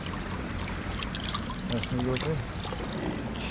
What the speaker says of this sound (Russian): Фонтанчик называется. Смотрите, питьевая вода.